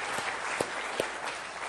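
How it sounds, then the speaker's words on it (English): A short burst of audience applause at a rhythm workshop, right after a group birthday song: brisk, close clapping with a few sharper claps standing out, lasting under two seconds. "Give yourselves a round of applause."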